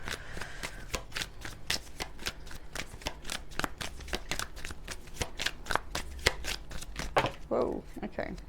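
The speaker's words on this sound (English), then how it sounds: "I want to clarify with a shuffle" Tarot deck being shuffled, a fast steady run of crisp card riffles and flicks close by, with a voice speaking over it.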